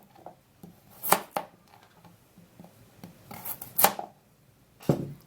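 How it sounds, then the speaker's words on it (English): A knife cuts carrots into smaller pieces on a board, several crisp chops in irregular bursts, close and fairly quiet, with no talking. "we're also going to be needing to cut in the carrots"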